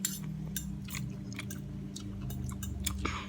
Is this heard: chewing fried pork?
yes